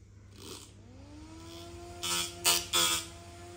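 A small 12V brushless motor fan spins up, its whine rising in pitch and settling into a steady hum, followed by a few short, louder whooshing bursts near the end; no one speaks.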